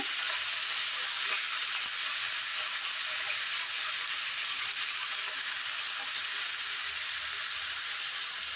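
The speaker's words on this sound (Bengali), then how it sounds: "সবগুলো আমি প্রথমে একসাথে খুব ভালোভাবে নেড়ে চেড়ে ভেজে নেব।" Potatoes and green and ripe tomatoes fry with garlic in a pan for a flat-bean curry, making a loud, steady, close sizzle that hisses without pause, and no one speaks.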